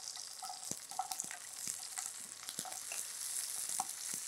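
Dried red chillies, shallots and garlic fry in oil in a pan, a soft, fairly faint hissing sizzle punctuated by light stirring taps and scrapes.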